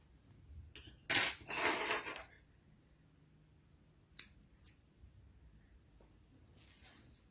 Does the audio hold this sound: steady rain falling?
no